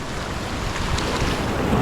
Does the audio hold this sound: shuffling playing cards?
no